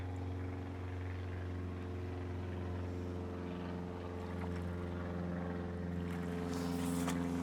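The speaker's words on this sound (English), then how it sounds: "you even get planes flying by to watch you look at Lindholm." A propeller plane drones steadily overhead on a cold winter's day out on the water, a low continuous engine hum with faint rustling and handling noises nearby, no talk.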